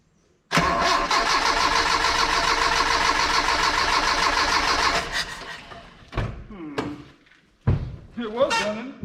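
A Dodge D50 pickup with a G63B engine cranks and catches on its first startup, running roughly and loudly for several seconds before stumbling and dying, followed by faltering restart attempts and voices.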